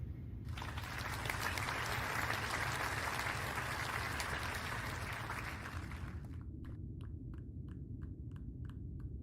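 A large symposium audience breaks into applause to welcome a speaker, dense, sustained clapping for several seconds that abruptly stops, leaving a few isolated, evenly spaced claps trailing off at the end.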